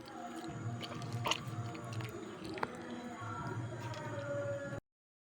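Flour dough being washed and kneaded by hand in a bowl of water to draw out the starch, soft close wet squelching and squishing, fairly quiet and continuous, cutting off abruptly at the end.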